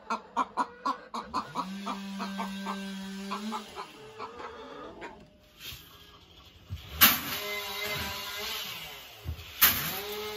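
Backyard laying hens clucking in a run of repeated short calls, then a few louder squawks, fairly close, with no talk and some faint background noise.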